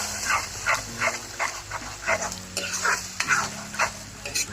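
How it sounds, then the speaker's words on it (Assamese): Masala frying and being stirred in a pan for Assamese fish curry, a steady sizzle broken by regular scraping stir strokes roughly every half second, close and clear with a low hum underneath. "ধুনীয়াকৈ ভাজি ল'ব এইটো"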